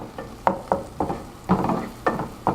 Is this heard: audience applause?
no